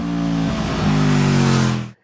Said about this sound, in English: It sounds great as a V4, this hidden away exhaust has a real character and soul to it.